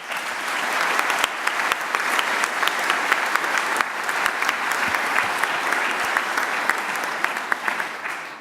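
Full-room applause at a global agenda summit, crisp individual claps scattered through a steady wash of clapping that holds evenly for several seconds before tapering slightly.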